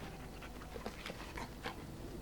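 A dog pants in Dragon Age: Origins, a quick steady huffing rhythm heard close and moderately loud over a constant background.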